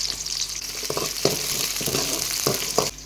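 Onion and curry leaves fry in hot oil for sambar, a close steady sizzle with several sharp scraping stirs against the pan.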